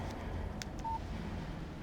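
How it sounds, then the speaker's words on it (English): A phone text-message alert in the video game Alan Wake: a single short electronic beep sounding once, fairly faint, over a low steady background rumble. "Text message from Barry."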